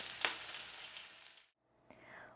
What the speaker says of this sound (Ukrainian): От до такого стану майже прозорого посмажився перець